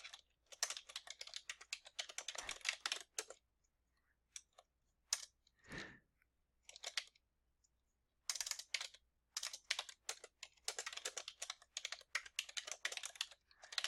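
Java code typed on a computer keyboard: rapid, close key clicks in dense runs, broken by pauses and a few isolated taps, with no talking.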